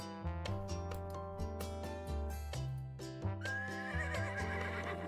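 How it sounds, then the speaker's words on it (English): A horse neighs in the Fate/Grand Order game over a steady bed of dense, layered music, the whinny rising in a bright, wavering call near the end. "Between Nagiko's yelling and the horse neighing"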